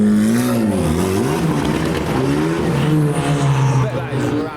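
An Ariel Atom's engine fires up and revs at an underground car show, its loud, wavering drone filling the enclosed space alongside crowd noise.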